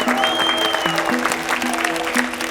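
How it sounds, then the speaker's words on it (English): An audience applauds a panel at a discussion event, with steady clapping over a sustained tonal hum or music throughout. "A big round of applause to our panel."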